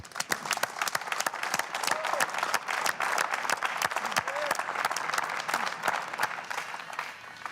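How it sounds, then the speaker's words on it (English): A crowd of detailing competition teams claps steadily for several seconds at a car detailing contest, with individual sharp claps standing out from the dense applause and some faint voices mixed in. "You guys should give yourselves a round of applause"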